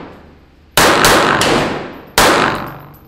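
Two loud, sharp pistol shots from a Bersa Thunder CC .380 metal-framed handgun during a failure-to-stop drill, each followed by a ringing decay. A tight pair comes first, then one more shot after a pause.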